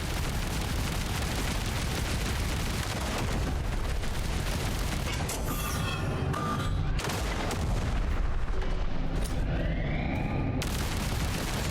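Dense, continuous gunfire and booming blasts fill a shooter battle in the video game Arc Raiders, loud and sustained without pause, with no voices.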